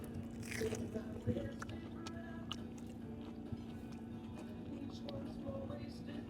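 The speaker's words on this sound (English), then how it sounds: "let's start with this coconut shrimp" Crunchy Red Lobster coconut shrimp coated in panko and shredded coconut breading is bitten into, a soft close crackle followed by quiet chewing and faint scraping.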